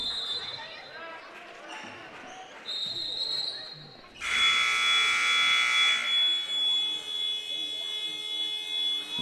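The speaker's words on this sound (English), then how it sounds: "Got that funny buzzer again." Electronic buzzer in a varsity high school basketball gym sounds during a game, a long steady tone of about two seconds following a shorter, fainter beep, with crowd noise and an announcer talking around it.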